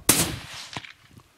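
A single sharp rifle shot cracks out during a hunt, followed by a quick echo and a fading rumble outdoors.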